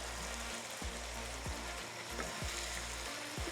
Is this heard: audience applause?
no